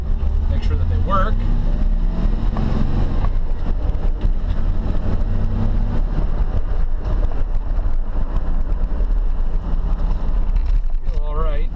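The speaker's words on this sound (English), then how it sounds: "We're going to hit the brakes gently, make sure that they work." A 1999 GMC Sierra C1500 2WD pickup rolls along with a steady, loud low engine and road rumble plus wind noise, its fresh front brakes applied gently.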